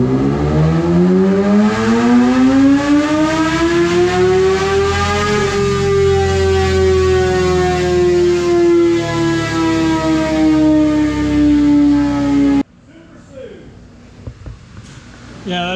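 A tuned motorcycle engine on a dynamometer revs up loud and steady for about twelve seconds, its pitch climbing then holding high before cutting off, leaving a quieter shop background.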